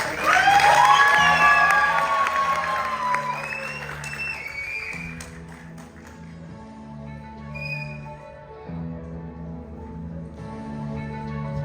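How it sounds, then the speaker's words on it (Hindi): An audience at a Hindi festival stage show of a Panchatantra play in New Jersey breaks into loud applause and cheering, with whoops and children's shouts. The clapping fades and then swells again over a sustained musical drone. "तालियों की गड़गड़ाहट से स्वागत कीजिए एक शानदार एपिसोड का"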